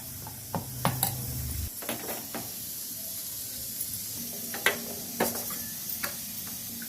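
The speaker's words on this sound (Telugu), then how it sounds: "పోపు వేస్తున్నాను." Tempering spices hit hot oil in a pan with a short burst of sizzling, followed by scattered ticks, taps and crackles from the pan, fairly quiet and close.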